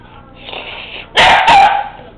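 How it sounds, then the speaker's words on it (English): A puppy's high, sharp barks, two quick yaps close by, following a quieter whine. "That's his bark."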